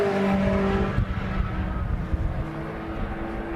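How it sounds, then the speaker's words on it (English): MG Cup race cars at Silverstone circuit stream past on track, a loud engine drone fading into a busy mix of distant motor noise and broad roar, with no voices heard. "The cars come streaming through to start their penultimate lap now."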